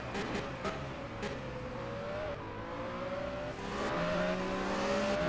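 A downforce racing car in a Formula Challenge race at Singapore in a racing video game, its engine whining continuously with pitch rising and falling through gear changes, steady and fairly close, with no talk.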